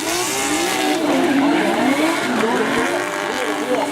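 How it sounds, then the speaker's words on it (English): Drift cars, a BMW and a Lexus SC430, skid hard into a turn during a Formula Drift final, with loud sustained tire squeal and wavering engine roar throughout. "Saito and Asa throwing it in hard into that first turn"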